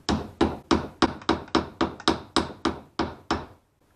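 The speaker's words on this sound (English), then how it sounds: "tap them in because they're on a taper" A hammer taps a tapered part into place during a PT Cruiser front wheel bearing replacement: about a dozen sharp, evenly spaced metallic blows, close and loud, then silence.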